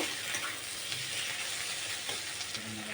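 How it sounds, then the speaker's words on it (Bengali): Tomato, onion and chilli sizzle steadily in a pan while being stirred, a dense continuous frying hiss close up with faint scrapes of the spoon, no voices. "দিয়ে আমি আরেকটু নাড়াচাড়া দিয়ে ভেজে নেব"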